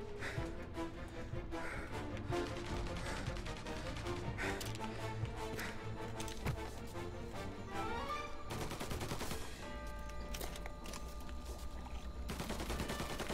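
Rapid gunfire bursts in the video game Mafia Definitive Edition, repeated sharp shots and fusillades over a busy game soundtrack, fairly quiet overall with some faint voice in the mix.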